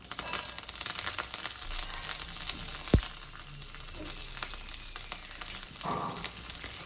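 Cumin seeds and curry leaves fry in hot oil with a steady, quiet sizzle and crackle, punctuated by a single sharp pop partway through and a brief louder spurt of spitting near the end.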